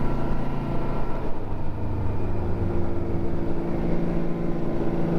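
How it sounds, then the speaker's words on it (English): A Yamaha Royal Star motorcycle engine hums steadily while riding twisty mountain roads between South Carolina and North Carolina, a continuous low drone mixed with wind rush, with no talking. "engine noise makes it through"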